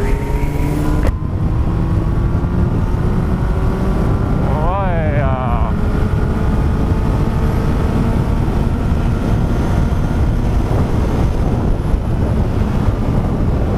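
A Yamaha R1 restricted to 48 PS cruises along, its engine droning steadily under heavy wind rush, with a brief rising-and-falling pitch sweep midway as revs change.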